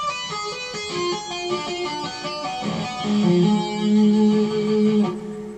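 Fast, clean electric guitar notes cascading in a repeating tapped diminished seventh arpeggio pattern, bright and sustained, played solo.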